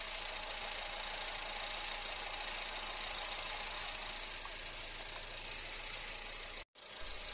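A car engine idles steadily while coolant is being burped from the cooling system, a continuous even hum and rattle close by, with a brief cut near the end.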